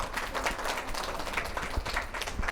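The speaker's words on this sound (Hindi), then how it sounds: "आप सभी एक बार अपने लिए ताली बजा लीजिए।" An audience of teachers claps for themselves, a dense, steady wash of many hands that holds at an even level for the whole stretch without pause.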